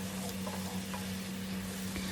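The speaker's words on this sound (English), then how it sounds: "Mix it for 2 to 3 minutes" Potato curry masala sizzles steadily in a pan while a spoon stirs and scrapes through it, with a continuous frying hiss and a low hum underneath.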